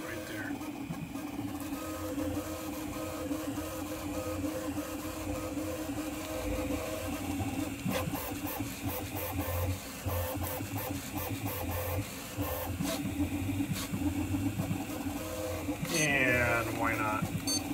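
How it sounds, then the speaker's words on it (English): Prusa MK4 3D printer running ABS at high print speed, a steady close mechanical whir and hum of stepper motors that shifts pitch near the end, with no talk over it. "You hear the tone of the machine change?"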